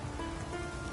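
Steady rain falling in The Witcher 3, a soft, even hiss of drops that holds unbroken for the whole second, moderately quiet with no voices over it.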